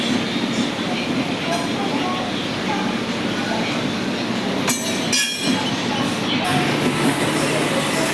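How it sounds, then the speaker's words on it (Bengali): A train rolls into a station with a loud, steady rumble of wheels on rails. Brief metallic squeals and screeches rise partway through, and voices carry on nearby. "দেখো ট্রেনটা ঢুকে গেল।"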